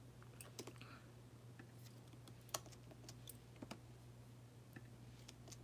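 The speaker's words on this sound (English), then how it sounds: "I'm just typing on my computer." Quiet, irregular keystrokes on a computer keyboard, scattered clicks and taps at close range over a low steady background hum.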